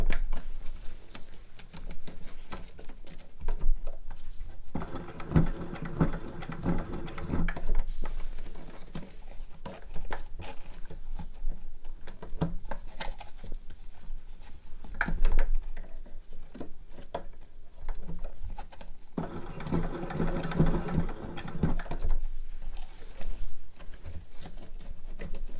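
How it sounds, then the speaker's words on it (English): A home sewing machine straight-stitches a square over the elastic join on a trouser waistband, running in two bursts of rapid mechanical clatter with quieter handling and pauses between them. "just with a straight stitch, what I'll do is I'll come round in a square because I want it to be extra strong"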